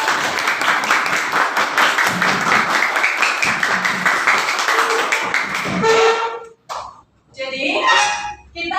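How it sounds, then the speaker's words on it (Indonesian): Classroom applause for students during a lesson: quick, dense clapping from a group of children for several seconds, then it breaks off into a few scattered sounds and a brief voice near the end. "Beri tepuk tangan pada teman-teman."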